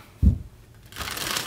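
A deck of tarot cards gets shuffled and drawn: a single soft thump as the cards settle, a brief pause, then a quiet, sustained riffle and slide of cards, close and faint.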